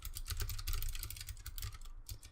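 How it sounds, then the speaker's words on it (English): Mechanical keyboard with blue switches and its keycaps removed, typed on at a steady brisk pace; dense, sharp clicks with a low thocking undertone, close and continuous, no voices. "typing without keycaps, it's going surprisingly well"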